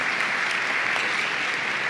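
Brief burst of audience applause at a bar association annual meeting luncheon, a steady, even patter of many hands with no talk over it.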